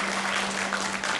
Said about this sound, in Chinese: 是不是给予他们一个热烈的掌声？